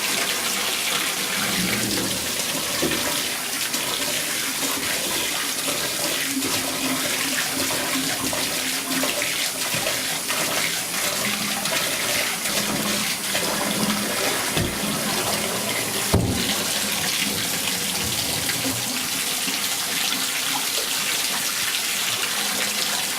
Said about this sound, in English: Dump it out again, and I'll keep doing this until the water runs clean.